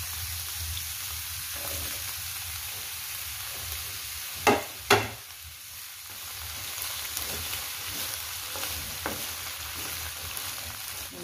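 Green papaya sautéed in a hot pan over an outdoor home cooking fire, a steady sizzling hiss with a couple of sharp scraping clatters from stirring near the middle, then continued frying with light scrapes.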